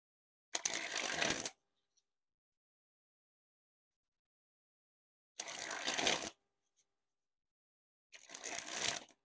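Jungle playing cards by Art of Play being sprung from hand to hand, three separate bursts of fast fluttering card clatter, close and crisp, with silence between them.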